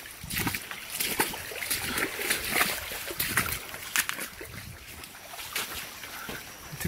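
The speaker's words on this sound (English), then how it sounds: "So another water crossing here." Continuous splashing and rushing of water at a stream crossing on the Moanalua Trail on Oahu, Hawaii, steady and close with gusty wind noise and no talk.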